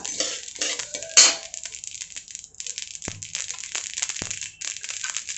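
Garden cress seeds roast dry in a pan, giving a steady crackle and patter of small pops with scattered sharper clicks and faint clanks of a stirring utensil, close up.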